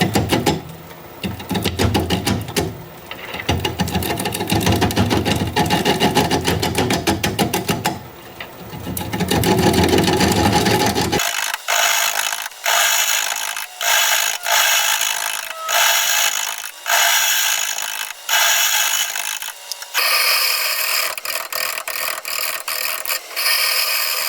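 A wood lathe spins a large maple burl bowl at about 400 RPM, giving a rough continuous roar that gives way to a run of rhythmic, repeated scraping bursts from the cutting tool on the spinning wood, with no talk.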